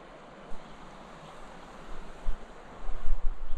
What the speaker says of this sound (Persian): اینجا آب حالت خروشان داره